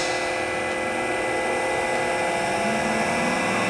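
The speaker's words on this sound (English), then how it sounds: "we'll bring the spindle back online, then we can do a couple of auto cycles" A DCM Technologies IG-180-M 18-inch vertical spindle rotary surface grinder runs its spindle at 1800 RPM, giving a loud, constant high whine and hum that holds steady throughout, with no speech.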